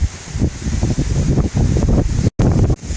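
Strong wind buffets the microphone outdoors among mangroves and palmetto groves near the water at Crystal River, a loud, gusting roar with brief dips and one sudden dropout.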